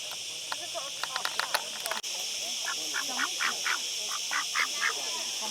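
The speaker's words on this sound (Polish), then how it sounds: "Rozgdakały się kaczki." Ducks quacking in short repeated bursts near a stony shoreline in Andalusia, irregular calls spread over a constant high insect drone, with a brief click partway through.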